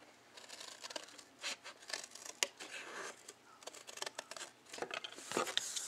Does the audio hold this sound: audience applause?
no